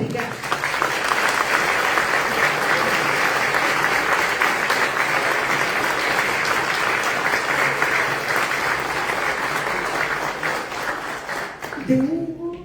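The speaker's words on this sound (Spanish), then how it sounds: "pedimos un aplauso para Hugo" Sustained applause from an audience in tribute to the late economist Hugo Fazio Rigazzi at a book launch, dense and steady for about twelve seconds before fading out.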